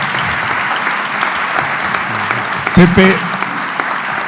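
An indoor audience at a book talk by a writer on a Visigothic treasure in Toledo breaks into sustained, dense applause, loud and steady throughout, with a voice speaking briefly over the clapping.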